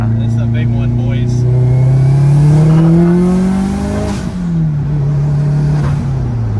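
A Nissan Pulsar GTI-R turbo engine, running with its recirculation hose off, revs up in a smooth climbing pitch, then eases back and settles, loud and close, with people talking over it.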